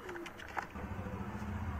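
A red Surkha pigeon coos softly nearby, a low throaty murmur rising over a faint background of other birds, with no talk.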